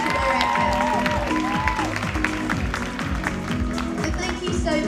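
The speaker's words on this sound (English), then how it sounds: "Massive round of applause, please." An audience at the 2022 International Junior Miss UK pageant applauds steadily while music with a pulsing beat and melodic lines plays loudly over the clapping, and a voice speaks briefly within the mix.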